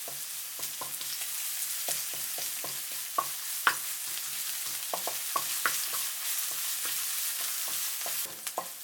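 Grated ginger and chopped garlic fry in hot vegetable oil in a pan on high heat, with a soft continuous sizzle broken by frequent sharp taps of a stirring utensil.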